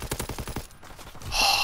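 Rapid bursts of automatic gunfire in a WW2 video game, about six quick shots then a pause, followed by further scattered fire and a louder blast or rush at the end.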